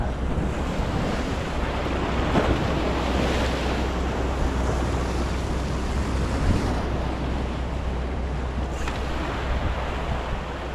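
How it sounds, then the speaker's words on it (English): Boat wake waves wash steadily onto a beach near a marina, a continuous loud surf roar with gusting wind buffeting the microphone throughout. "Now these guys are bringing the waves."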